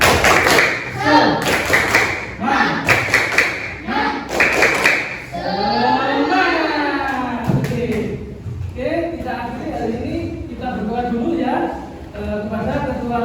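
A primary school class at an Islamic elementary school claps a rhythmic tepuk semangat chant, with sharp patterned claps opening and then young voices chanting loudly together.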